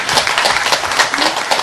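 Applause at a church meeting: a dense, steady crowd clapping close by, continuous for the whole stretch with no voices over it.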